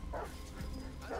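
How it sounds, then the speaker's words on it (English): Dogs barking in the video game Detroit Become Human, a couple of short yips close together over a low background hum, no speech. "I need those dogs to hush it on up."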